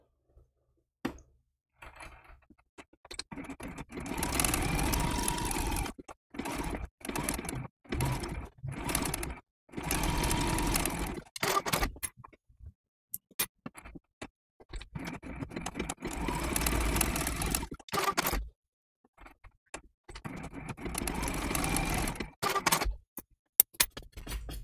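A home sewing machine running a tight satin stitch on raw-edge appliqué, a close whirring motor in repeated bursts of a few seconds each, separated by short silent pauses.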